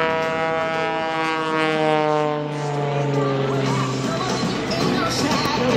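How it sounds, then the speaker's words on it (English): A steady droning biplane engine during a roll at an airshow, with a strong tonal hum, mixed with wind noise and an indistinct voice, holds loud throughout. "Gary Rauer in the big red and white biplane, the Super Sturdy, rolls out."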